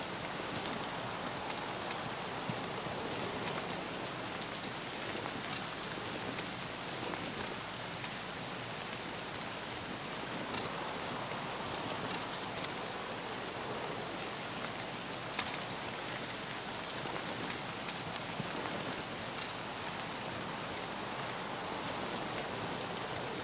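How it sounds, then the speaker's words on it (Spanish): Raindrops falling in the Escape from Tarkov video game make a constant, even hiss of rain with faint scattered drip ticks, soft and unbroken for the whole stretch. "Las gotitas de lluvia me están poniendo nervioso."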